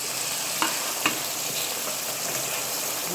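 Spice masala fries in a pan for chicken biryani, producing a continuous close hiss and sizzle with a couple of soft stirring clinks, and no voices.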